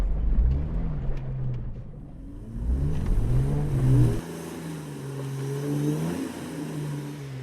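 A stock Toyota Prado 120 series revs hard off-road in Wombat State Forest, its engine rising and falling in repeated surges as the wheels spin for grip, fairly close and with no talk.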